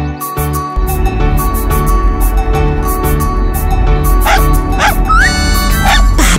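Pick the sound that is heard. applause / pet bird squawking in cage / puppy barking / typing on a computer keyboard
puppy barking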